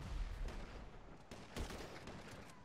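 Gunshots in the GTA 5 video game, a rapid series of sharp cracks and booms over dense rumbling background, fairly loud and irregular.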